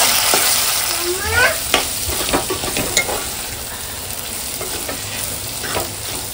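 Garlic paste masala frying in oil, a steady close sizzle with scraping stirring strokes and a few clinks of the spoon against the pan, continuous throughout.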